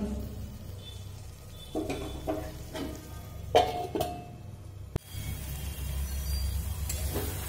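Soybean curry cooks down in its sauce in a pan, giving a low steady sizzle under several scraping spoon strokes and one sharp knock against the pot.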